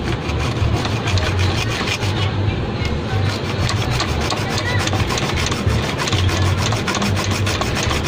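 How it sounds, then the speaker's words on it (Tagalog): Continuous rasping of a hand saw cutting through metal ribbon wire during an amplifier repair, steady back-and-forth strokes, close and loud. "Saan yung lagari ko rito? Yun. Garihin natin."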